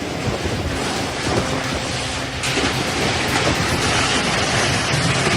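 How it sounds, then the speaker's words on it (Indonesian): Tornado-force winds tear through a village in Wanayasa, Banjarnegara, Central Java, a loud continuous roaring rush of wind buffeting the microphone, steady and unbroken with no clear voices. "Inilah detik-detik video angin puting beliung menerjang permukiman warga di Dusun Kalideres, Wanayasa, Banjarnegara, Jawa Tengah"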